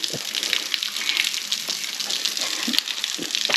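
Water rushes and splashes at a waterfall on Smith Lake, Alabama, a close, continuous broadband gushing with scattered sharper splashes and no talk.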